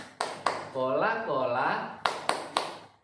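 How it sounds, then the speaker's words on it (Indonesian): Hand claps in the 'tepuk Coca-Cola' clap game, a few sharp rhythmic claps at the start and three more at the end, with a person chanting in between. "Jadi tepuk Coca-Cola itu begini."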